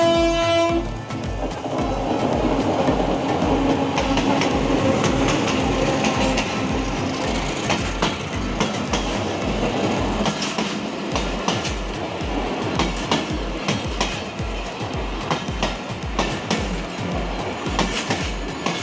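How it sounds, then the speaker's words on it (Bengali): A passenger train running from Rajbari and Bhanga toward Rajshahi sounds a horn near Kushtia's Majampur and then rolls loudly past, close by. Its wheels beat a steady clickety-clack rhythm on the rails for the whole passage. "এই দেখেন ট্রেন চলে এসেছে"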